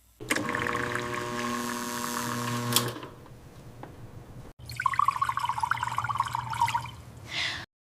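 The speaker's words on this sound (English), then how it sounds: "I fill a glass with water." A glass is filled with water from a tap in a kitchen, a steady rising pour that stops, then a second running stream after a short pause, close and fairly quiet.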